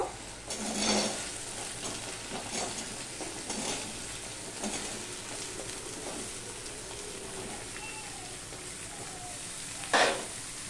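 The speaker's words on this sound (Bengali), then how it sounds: "এবার আমি সবজিগুলো সব দিয়ে দেব।" Vegetables tipped into a sizzling ginger tempering for a vegetarian drumstick dish, producing a steady moderate frying hiss with repeated scraping stirs and clinks of a utensil against the pan, and a sharp clatter near the end.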